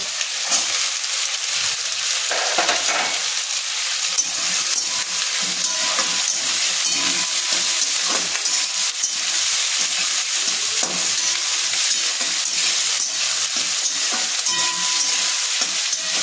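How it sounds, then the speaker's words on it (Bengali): Onion and capsicum pieces frying in a pan for chilli paneer, a steady loud sizzle with a spoon stirring and scraping through it, close and continuous with no talking. "যতক্ষণে এই পেঁয়াজ আর ক্যাপসিকামটা ভাজছে"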